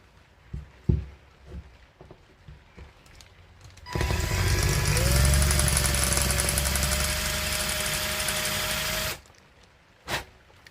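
A drill bores a 2.5 mm pilot hole into a small part of a Shimano Ultegra RD-R8050 SS rear derailleur, giving a steady, loud whine for about five seconds with a quiet workshop before and after.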